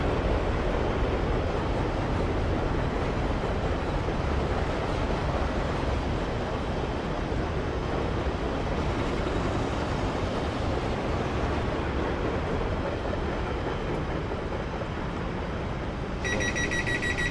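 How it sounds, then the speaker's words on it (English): A freight train passes in the Train Simulator Classic game on the Crewe to London Euston line, a loud, steady rumbling roar that fills the whole stretch without letting up. "Freight train coming through."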